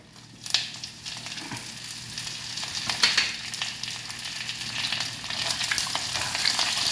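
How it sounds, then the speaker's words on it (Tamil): Dried red chillies and curry leaves crackle and sizzle in hot oil alongside chana dal and fenugreek seeds, a close continuous fry that swells with sharp pops after each addition, no talk. "இப்போ மிளகா வத்தல் போடுறேன், கருவேப்பிலை"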